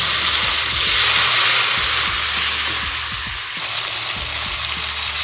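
Tomatoes go into browned onions frying in a pan, a steady loud sizzle and hiss that runs the whole time with faint stirring clicks underneath, no voices.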